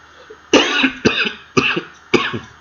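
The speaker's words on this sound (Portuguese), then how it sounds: "Eu tenho tosse, mas não é corona não" Four sharp coughs in quick succession, each a harsh burst with a short raspy tail, close and loud.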